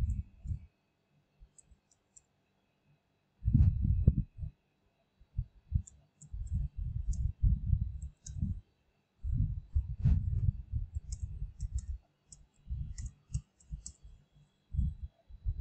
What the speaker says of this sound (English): click the mouse cursor here, just enter